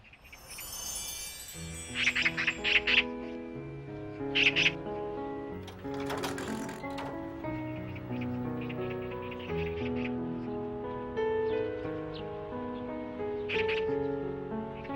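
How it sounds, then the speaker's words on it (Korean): Magpie calls from a played video, a series of sharp, harsh chirps over layered music-like tones, moderately loud and close throughout the clip with no speech. "저 새가 무슨 새냐? 까치라니까요."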